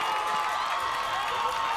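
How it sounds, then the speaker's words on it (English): Crowd at a high school football game in Nashua cheering after a long pass play, a steady wash of distant cheering and shouting from the stands, sustained and fairly even throughout. "Gives the Titans crowd reason to cheer."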